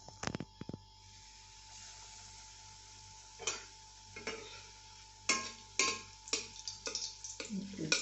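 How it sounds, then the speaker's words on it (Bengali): Snacks shallow-fry in white oil in a pan, a faint low sizzle punctuated by a series of sharp utensil clicks and scrapes against the metal. "কড়াইতে সাদা তেল দিলাম আমি শ্যালো ফ্রাই করছি"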